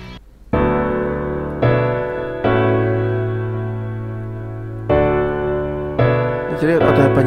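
Grand piano tones from the free Keyzone Classic VST plugin: several sustained chords and low notes ring out and decay one after another, clear and close. A short burst of other sound follows at the end.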